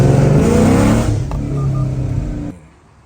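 2019 Chevrolet Camaro SS with Texas Speed headers, catless and an X-pipe, revving loudly up close, its harsh exhaust roar climbing and then dropping away to quiet within a few seconds.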